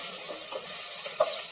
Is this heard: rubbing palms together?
no